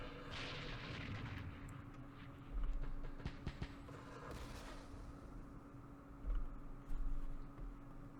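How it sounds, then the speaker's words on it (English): Mortar and artillery fire in the Middle East wargame Campaign Series Middle East: several deep booming thumps rise above a steady low rumble of battle noise, with no talking. "let's mortar that"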